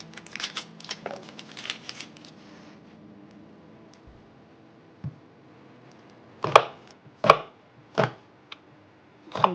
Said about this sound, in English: chopping the onion to put in the marinade, trying chopping it small pieces